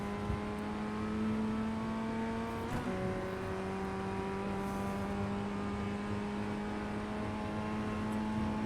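A Formula Ford 1600 race car engine in the iRacing sim at Oran Park holds a steady, moderately quiet drone with one brief pitch drop as a gear changes, and no talk over it.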